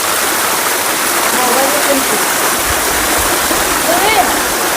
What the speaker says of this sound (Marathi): किती सुंदर धबधबा आहे ना मित्रांनो